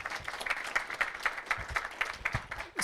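Audience applause for the host law firm at a health tech venture capital panel event: a crackly burst of many hands clapping, steady and fairly close, for about three seconds.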